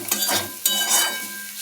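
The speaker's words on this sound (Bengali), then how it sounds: "কাজু বাদামটাও ভাজা হয়ে গেছে, আর এমনি বাদামটাও, চীনা বাদামটাও ভাজা হয়ে গেছে" Cashews and peanuts fry in a pan while being stirred, giving a close, brief crackling sizzle with scraping strokes of the spoon.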